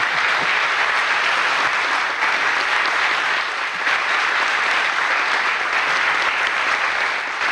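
A crowd at a youth gathering celebrating Pope Francis gives sustained, dense applause for a secretary general, loud and even for over seven seconds with no talk.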